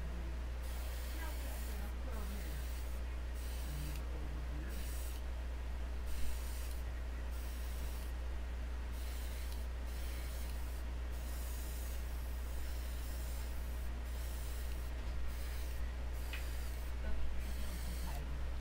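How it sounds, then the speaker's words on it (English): An airbrush compressor runs with a steady low hum under a continuous fine hiss of misted paint spraying on a cheap miniature, with the spray cutting in and out in short bursts, close and fairly quiet. "my compressor's about to kick on here in a few seconds"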